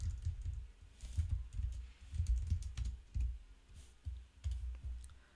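Keys tapped on a computer keyboard while entering text into a presentation program, a close run of soft, uneven clicks with short pauses, no voices.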